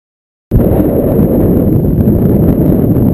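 Strong wind buffets the microphone in woods at Castle Wood, starting abruptly as a loud, steady low roar and rumble that continues without a break.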